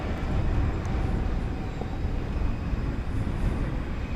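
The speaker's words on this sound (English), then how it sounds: "This is Flight 49 Eva Air going to Taipei. 7879 Dreamliner." An Eva Air Boeing 787-9 Dreamliner, flight 49 to Taipei, roars at night at DFW Airport. The jet makes a broad, steady rushing noise at a middle distance, swelling slightly at the start, with no talking.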